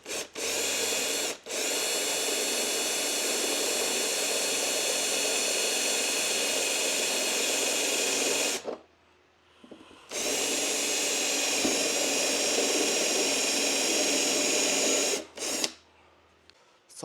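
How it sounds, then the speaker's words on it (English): A power drill runs a step bit through the mounting holes for a 326 Power Manriki wing on a 2024 Nissan Z, two long steady whining runs separated by a short pause, loud and close with no talk. "So now we're gonna use the unibit to make it bigger."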